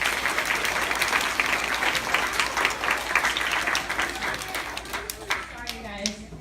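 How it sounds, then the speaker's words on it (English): A crowd at a kids' team event applauds a coach, with steady, lively clapping throughout and a few voices and cheers rising near the end. "So how about a big round of applause for Coach Tamara?"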